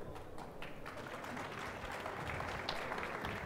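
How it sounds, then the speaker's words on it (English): Audience at a tech conference stage applauding two speakers as they arrive, sustained crowd clapping with scattered louder claps. "Let's applaud."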